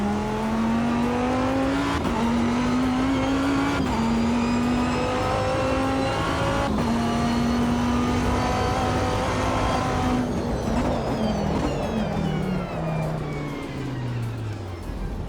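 A race car driven in a racing sim on a Simagic Alpha EVO Pro wheel: a loud, continuous engine drone that climbs and drops as it shifts through gears, ending in a falling deceleration, with no voices.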